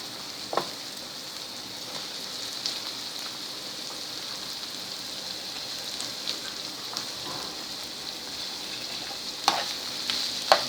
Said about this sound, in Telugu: ఉల్లిపాయ ఇలా వేగుతున్నప్పుడే ఇందులో కొద్దిగా కరివేపాకు వేసుకుని ఈ మునక్కాయ ముక్కలను కూడా అందులో వేసుకోండి